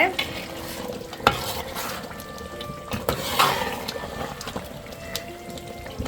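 Fried quail is stirred into pickle masala in a pan, giving a soft sizzle broken by irregular scrapes and knocks of a spoon, close up and without speech.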